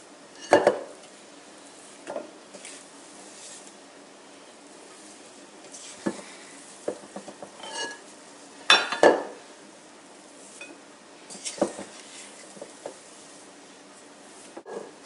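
Gingerbread dough being scraped and moved into a bowl: scattered close clinks, knocks and scraping of utensils against the bowl between quiet pauses.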